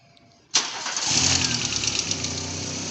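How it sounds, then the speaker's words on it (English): A 1990 Volkswagen Golf Cabriolet cold-starts with a sharp crank-and-catch burst, then settles into a steady, close, even idle hum that continues alone to the end. "Nice cold start for you."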